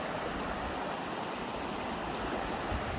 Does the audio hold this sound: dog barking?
no